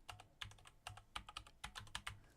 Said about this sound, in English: we type in the word essentials